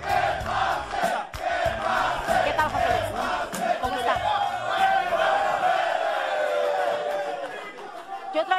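Studio audience at a Mexican talk show cheering and applauding, a loud dense crowd roar with shouts and chatter sustained throughout.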